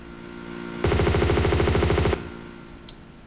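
Gunshots in the Tomb Raider 2 Gold video game: a single rapid, evenly spaced burst of about twenty shots lasting just over a second, loud and close, followed by a faint click.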